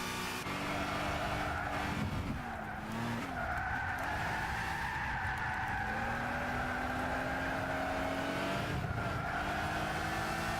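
An all-wheel-drive car drifts around corners in Gran Turismo 6, tires squealing in long sustained screeches over a loud, continuous engine whine that rises and dips with the throttle, with no voices.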